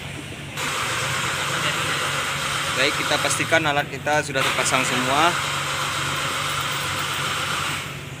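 A Toyota Kijang Innova engine revs steadily during an exhaust emissions test, with a constant broadband roar and hiss throughout and a person speaking briefly over it midway.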